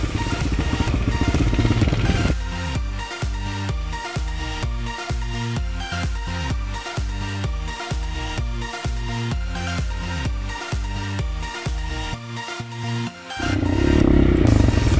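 A Hartford 250 motorcycle engine idles and revs close by, its steady rhythmic thumping lasting throughout with no talk over it.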